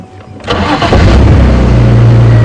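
Safari vehicle engine starting at Djuma Game Reserve, a cranking burst that catches and settles into a loud, steady idle rumble close by.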